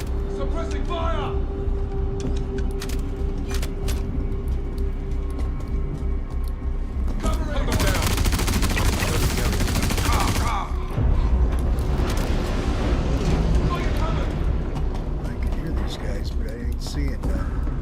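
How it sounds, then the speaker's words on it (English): Suppressing gunfire in the video game Star Citizen, a dense burst of booming shots and thuds mixed with game noise, under continuous talk. "Suppressing fire."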